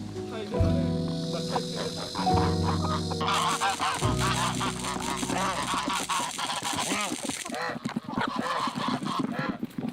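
Geese honk loudly and repeatedly nearby, harsh nasal calls overlapping one another in a noisy, continuous chorus.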